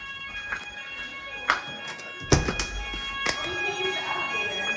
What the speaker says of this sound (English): we got a fire alarm here in Cyprus